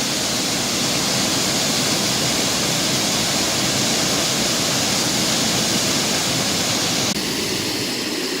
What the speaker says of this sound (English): The mesmerizing thupthup waterfall.